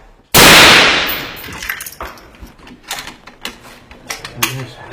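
A single loud, close rifle shot cracks out at the start of a firing drill, followed by softer scattered metallic clicks and clanks of weapon handling, with a voice calling commands.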